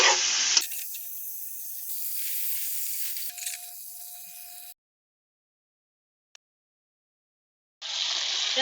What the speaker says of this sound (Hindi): एक साइड पे हमारा चिकन फ्राई हो रहा है और एक साइड पे हम लोग प्याज फ्राई कर रहे हैं।